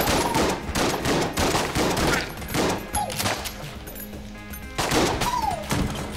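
Rapid, loud gunfire in Enter The Gungeon, with repeated shotgun blasts layered over constant game noise and rising whistling effects, a dense barrage with almost no pauses.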